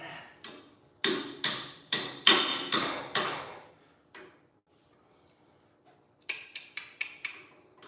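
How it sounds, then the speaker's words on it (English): Six sharp metallic hammer blows from a crescent wrench hammer land in a steady rhythm on metal, then a pause and a quicker burst of lighter taps and clinks, close by. "Look at this crescent wrench hammer."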